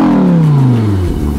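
A 2020 Audi R8 V10 Performance engine roars loud and close, its pitch sliding steadily downward as the revs fall away.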